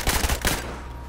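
A burst-fire gun in the Battlefield 4 video game, a quick cluster of three or four sharp shots followed by a short decaying tail, loud and close.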